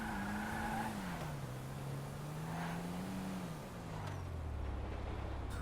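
A truck driving in Grand Theft Auto V, its engine droning steadily with pitch rising and falling as it shifts, continuous and fairly close throughout.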